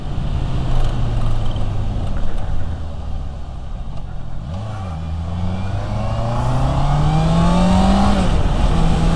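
A 2022 Honda CBR 650R inline-four revs hard past 6000 rpm, its loud, close engine note climbing steadily in pitch after a brief dip as the throttle is held open.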